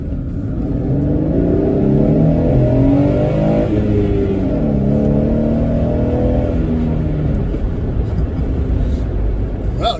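A Jeep accelerating hard alongside a Porsche, its engine a loud, steady rumbling drone that rises in pitch through several shifts, close and continuous for the whole stretch.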